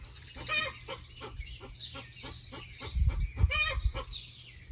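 Chickens cluck in a rhythmic series of short calls, fairly close, with a low hum and some rustling underneath.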